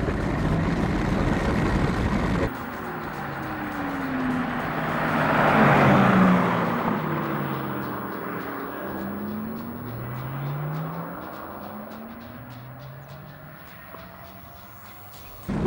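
A Porsche Taycan 4S electric car accelerates hard, its rising and falling synthetic motor whine sweeping in repeated tonal arcs over road and wind noise, heard from inside the cabin.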